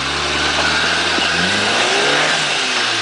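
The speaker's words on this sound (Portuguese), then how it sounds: "Enche o motor, vem com ele cheio." A car engine revs hard under load, a loud, sustained mid-pitched roar that holds steady with slight rises in pitch throughout, with no talking.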